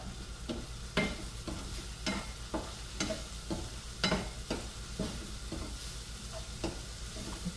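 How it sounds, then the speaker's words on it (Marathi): Snake gourd bhaji with onion and green chillies sautéing in a pan: a continuous sizzle broken by regular scraping strokes of a spatula, roughly two per second, close and clear. No talking. "आता ह्याला छान असं जरा सॉते करून घेते एकदा"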